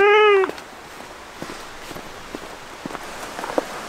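A cat gives one loud, clear meow up close at the very start, followed by a quiet stretch of scattered soft taps and light patter.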